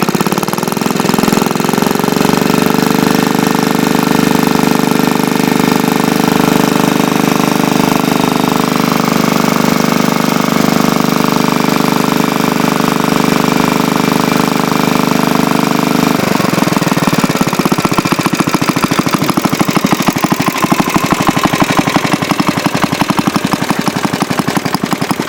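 An antique Briggs & Stratton engine runs steadily at close range, a loud rapid chugging idle that holds a constant pitch, then shifts to a rougher, more uneven beat partway through.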